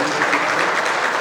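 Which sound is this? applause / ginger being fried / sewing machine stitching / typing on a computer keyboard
applause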